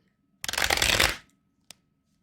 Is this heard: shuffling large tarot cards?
yes